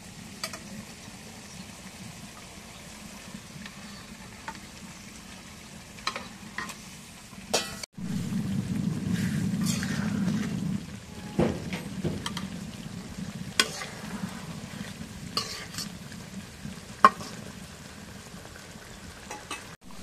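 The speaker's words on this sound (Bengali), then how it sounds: "এখন মাছগুলো একটু রেখে দিয়ে একটু কষায় নিই" Pieces of mrigal fish sizzle in a pan of cooked-down spice masala with a soft, steady frying hiss. A spoon scrapes and stirs now and then, and the sizzle rises sharply when the mixture is turned.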